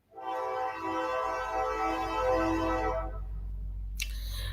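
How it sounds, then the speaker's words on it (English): A train horn sounds loudly in a sustained, harmonic blast for about three seconds over the low rumble of a passing train, which keeps rolling after the horn stops. "1 minute for this train to go"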